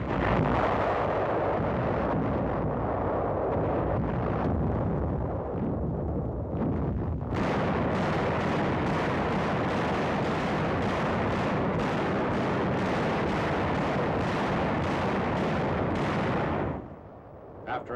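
WWII naval and artillery bombardment before a beach landing at Ormoc Bay, a loud continuous roar of heavy blasts and rumbling that surges through most of the stretch, then drops off abruptly near the end.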